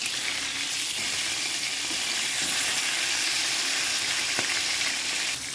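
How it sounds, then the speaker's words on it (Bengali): Fish sizzles and spits steadily in hot oil in a home kitchen, a continuous loud, dense frying crackle throughout with no one speaking. "মাছ যখন তেলের উপর দেওয়া হয় তখন গরম তেলগুলো ছুটতে থাকে"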